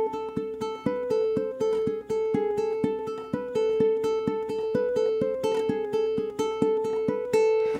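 Close solo ukulele plays two bars of a riff back to back, a steady stream of plucked notes with a few ringing chords, no talking.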